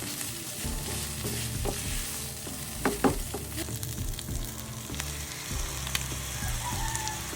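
Ingredients with pepper and tomato being stirred in a pan indoors, a steady sizzle with scraping and clinking of the utensil, a few sharper knocks near the middle, no talk.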